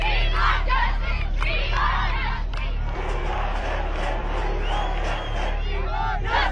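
A large, agitated street protest crowd in India shouts and chants in unison, a loud continuous roar of many voices with rising cries and rhythmic slogans throughout.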